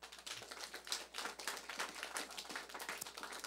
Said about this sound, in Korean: 전체에 박수 한번 쳐줘요